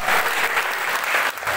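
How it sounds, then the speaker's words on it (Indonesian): Steady applause from a church congregation at an evening service, dense clapping sustained throughout at an even level with a brief dip near the end. "Tepuk tangan yang terbaik"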